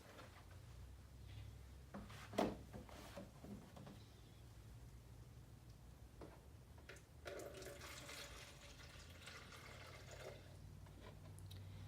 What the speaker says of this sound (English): You will pour out of the front of the bedpan into the graduate.